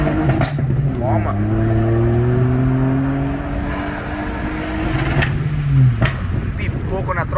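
A remapped VW Jetta TSI and Up TSI rev through gear changes, the engine note rising then cutting off with a few sharp exhaust pops at each shift, close by with people talking.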